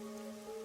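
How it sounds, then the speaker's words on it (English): Rain falls in the Master Detective Archives: Rain Code video game as a soft, steady wash of patter beneath sustained musical tones, unbroken for the whole moment. "the rain in our town hasn't stopped falling"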